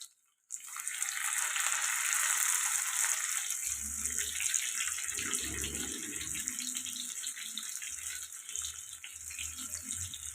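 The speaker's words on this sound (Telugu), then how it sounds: "ఆయిల్ అయితే వేడి వేడయిందండి ఇప్పుడు బెండకాయలు వేసుకుందాం" Okra dropped into hot oil sets off a loud, continuous sizzle that begins abruptly and hisses steadily, with occasional low bumps of the pan underneath.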